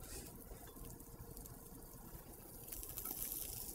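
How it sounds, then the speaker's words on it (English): Food sizzles in a hot pan during an Asian cooking session at a college, a soft, steady hiss that holds even and quiet throughout with no talking over it. "Oh, we got the sizzle."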